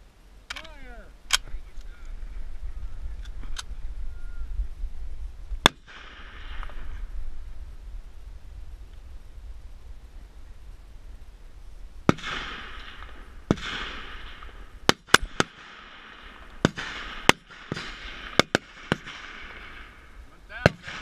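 M1 Garand rifle shots during prone slow fire at a CMP match, sharp cracks spaced a few seconds apart and then clustering more densely later on, distant range commands and talk between them.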